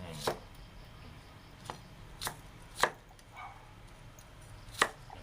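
Knife chopping ingredients for a spicy Thai pork rib soup with shrimp paste, heard as about six sharp, separate chops spaced irregularly over a quiet kitchen background, with no talk.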